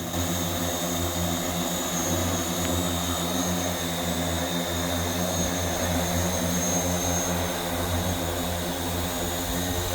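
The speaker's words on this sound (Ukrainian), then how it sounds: "провели навчально-тренувальні польоти інноваційного безпілотника із магнітометричною системою" An innovative drone fitted with a magnetometric system flies during a training flight, its steady tonal engine and propeller hum holding loud and constant throughout with no voices.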